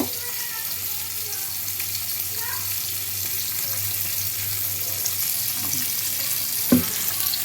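Fish frying in a pan in a home kitchen, a steady low sizzle running throughout with a brief clatter near the end.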